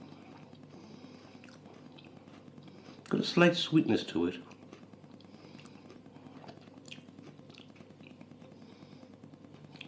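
Crisp biting and chewing of a raw mashua tuber, a short burst of crunches close up, with quiet speech around it.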